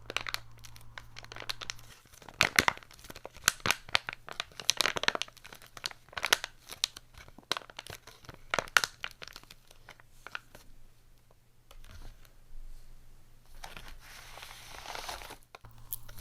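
Plastic MRE ration packaging is torn and crinkled up close in soft, irregular bursts of crackling and ripping, separated by quiet pauses over a faint steady hum.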